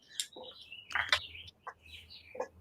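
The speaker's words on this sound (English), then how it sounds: "I hear like birds." Small birds chirping outside an open window, a few quick, faint tweets and trills in short scattered bursts against a quiet room.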